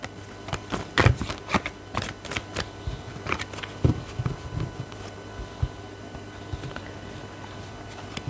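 A deck of cards being cut and shuffled during a card reading, with crisp irregular riffling snaps and flicks, close and fairly quiet, and no talk over them.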